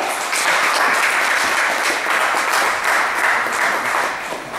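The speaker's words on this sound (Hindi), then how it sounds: "जोरदार ताली से स्वागत है आपका" Steady, dense applause from an audience welcoming guests onto the stage at a theatre seminar, a full room clapping loudly and continuously without a break.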